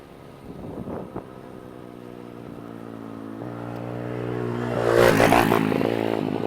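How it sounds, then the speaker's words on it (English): A dirt bike out on a rural road with grassy verges approaches, its engine note building and peaking loudly around the fifth second, then trailing off slightly, with no talk. "There's little turds around here on dirt bikes that come onto this road and turn up all the grass at the sides."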